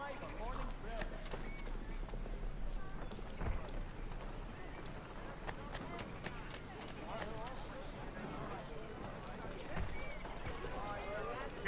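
Horses clip-clop steadily in the video game Assassin's Creed III, a continuous trotting rhythm with occasional sharper hoof knocks, running beneath frequent talk throughout.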